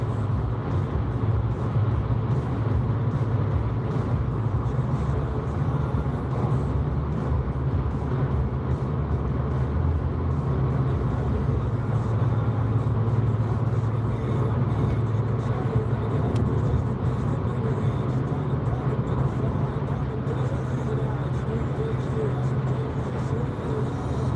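Steady motorway traffic on the M60 ring road near Manchester, heard from inside a moving car as a continuous low roar of tyres and engines with no breaks, carrying on without a pause for about twenty-four seconds.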